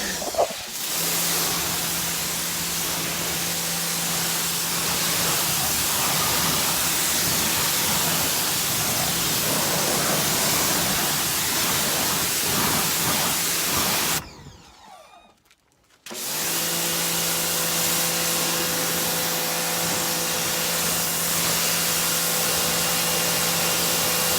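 Water spray rinsing a car during an exterior detail, a continuous loud hiss that drops out briefly partway through before resuming.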